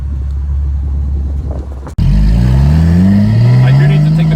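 Porsche Boxster S fitted with new headers accelerating hard, engine note climbing steadily in pitch after a brief cut, loud and close with a deep rumbling exhaust.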